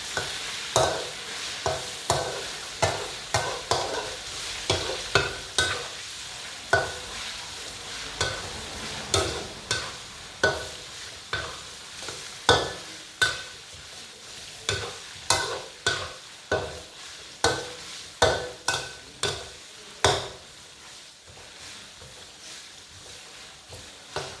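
Sun-dried pork fries in hot oil over medium heat, with a steady sizzle broken by regular scraping stirs of a utensil in the pan, close and moderately loud, with no speech.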